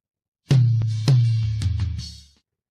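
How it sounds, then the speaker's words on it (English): Isolated tom drums from a country song mix, edited with the gaps muted: a few deep, boomy hits ring out one after another and decay into silence, close and alone. "the toms by themselves now sound like this"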